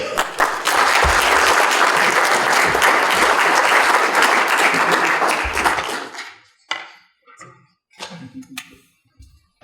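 Dense, loud applause from an audience welcoming speakers at a talk, sustained for about six seconds before thinning into a few scattered claps and quiet.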